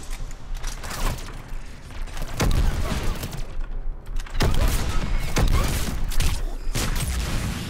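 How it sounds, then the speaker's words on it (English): Sniper shotgun blasts in Mass Effect 3 during a Geth server fight, several loud broadband shots at irregular intervals over busy combat noise, with no talking. "Wanna taste my shotgun? I have a sniper shotgun!"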